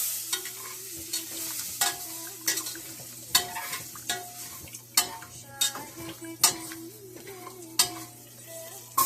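Shallots and ginger sautéing in a pan, a steady sizzle with a spatula scraping and tapping the pan in a loose repeating rhythm, close and clear over a faint low hum.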